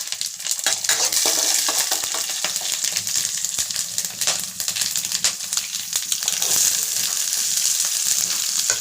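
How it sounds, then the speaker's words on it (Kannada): Chillies, cumin, mustard seeds, cloves, cinnamon and chana dal sizzle and crackle steadily in hot oil as a tempering for potato rice, with some stirring and utensil clatter and no talking. "ಅದೆಲ್ಲ ಒಟ್ಟಿಗೆ ಒಗ್ಗರಣೆ ಹಾಕ್ಕೊತಿದ್ದೀನಿ"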